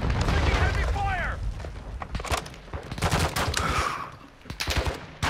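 Rapid gunfire and bursts from the Call of Duty: Modern Warfare II co-op mode crackle loudly and continuously, with radio-style voices talking over the shooting.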